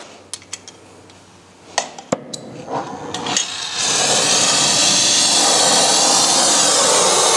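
A gas torch brazes copper pipe for an energy management practical exam: a few sharp clicks and taps, then a loud, steady broadband roar as the torch flame opens up and holds for several seconds.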